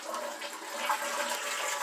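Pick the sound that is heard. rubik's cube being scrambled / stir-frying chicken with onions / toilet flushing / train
toilet flushing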